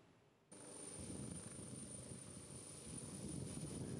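A presidential helicopter lifts off and climbs over Bongouanou, its rotor and engine producing a steady, broad roar that holds loud and constant throughout, with no voices.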